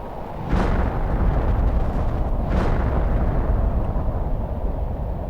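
Rocket launch in the video game The Planet Crafter, a loud, low roaring rumble that kicks in abruptly and holds steady, with a second burst of roar partway through and no talking.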